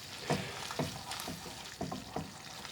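Methi leaves are stirred into lamb rogan josh frying in a pan, giving a soft, steady sizzle broken by a few scraping stirs up close.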